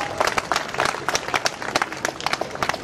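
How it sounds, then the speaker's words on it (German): An outdoor crowd at a weekly vigil in Braunschweig applauds itself with lively, uneven clapping from many hands, fairly close and moderately loud. "Ein Applaus für euch selbst."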